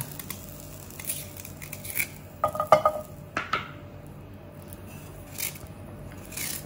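Sliced kencur dry-roasts in a Teflon pan with no oil, with scattered clinks and scrapes of a utensil against the pan over a faint background hiss.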